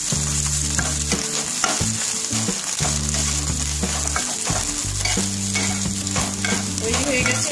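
Egg filling with coriander leaves is stir-fried in a pan, a constant close sizzle broken by repeated spatula scrapes and stirring strokes, with no talk.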